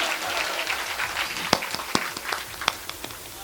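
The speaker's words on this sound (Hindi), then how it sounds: "ताली बजाइए" Audience at a Hindi kavi sammelan poetry recital claps in a scattered, thinning patter, with a few sharp isolated claps standing out near the end.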